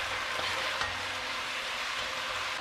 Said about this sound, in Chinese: 两小块的火锅底料进去翻炒